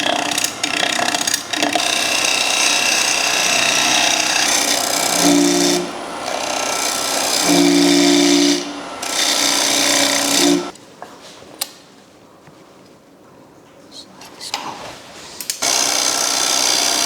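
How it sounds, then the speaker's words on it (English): A wood lathe turns a wooden platter blank while a tool cleans up the face and cuts a tenon for the chuck, giving a loud, sustained whirring and scraping with changing tool contact, then a quieter stretch before cutting resumes. "we can clean up this face and cut our first tenon to get into the chuck"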